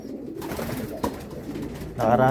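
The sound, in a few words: racing pigeon cooing after returning home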